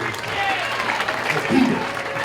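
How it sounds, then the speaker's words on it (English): Audience at a teen conference clapping for a man pointed out in the crowd, a steady patter of hands in a large hall mixed with crowd murmur and some talking. "Let's give him a hand clap."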